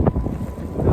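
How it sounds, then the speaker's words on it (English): A strong wind gust during a winter storm with snow and ice roars briefly and fills the microphone, a dense blustery rush that is steady and loud. "Gusts are still coming in strong"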